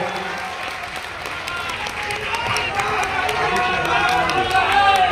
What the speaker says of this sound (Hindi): मैं चाहता हूँ एक बार जोरदार ताली से आप लोग इनका भी